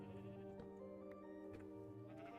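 Sheep bleating in a hardcore survival video game, a soft, quavering bleat with a couple of faint clicks layered over it, heard quietly and alone.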